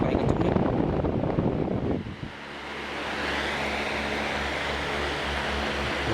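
Vanco 18-inch industrial wall fan running at top speed: a loud rushing roar that settles into a steady, jet-like whoosh with a low motor hum underneath, after a rougher burst of noise at the start.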